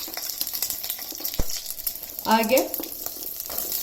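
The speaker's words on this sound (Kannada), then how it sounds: "ಮೀಡಿಯಂ ಫ್ಲೇಮಲ್ಲಿ ಫ್ರೈ ಮಾಡ್ಕೊಳ್ಳಿ. ಫ್ರೈ ಆಗ್ತಾ ಇದೆ." Chopped garlic sizzles in a pan over a medium flame, a steady crackling fry with a sharp click partway through and a brief spoken word over it.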